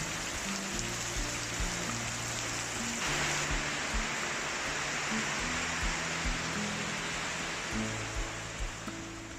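Steady rain falls outdoors in a foggy setting, a dense continuous hiss at moderate level with a constant wash of drops and no talk, partly layered under soft background music.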